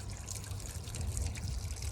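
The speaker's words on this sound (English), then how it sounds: "water's all coming out." Water pours and trickles steadily out of a manual washing machine after rinsing, a continuous close splashing drain lasting throughout.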